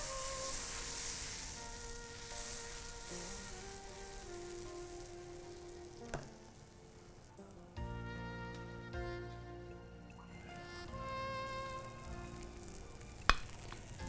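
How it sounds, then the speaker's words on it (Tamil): Dosa batter poured onto a hot griddle, giving a steady soft sizzle with a few sharp knocks, faint and close, with tonal background music running underneath. "இப்போ தோசை ஊற்றுற பாருங்க."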